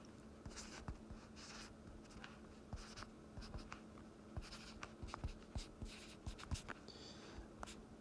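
A pen writes equations on paper, a quiet, close scratching made of short strokes and taps in an irregular rhythm.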